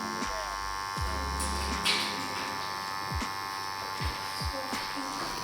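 A tattoo machine fitted with a 3 round liner needle, 3.3 mm stroke, set at 8 volts, buzzing steadily at close range, with low thumps and handling noises scattered through the constant whine.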